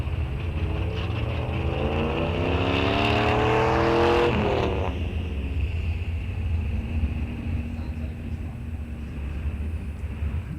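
A hot rod truck roars down a drag strip in a loud, close pass, its engine note rising steeply as it accelerates, then dropping into a steady far-off rumble.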